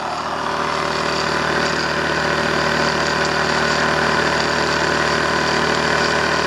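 Series-wound DC motor running on a test setup, giving a constant, loud, even hum with a steady tonal drone and no variation throughout.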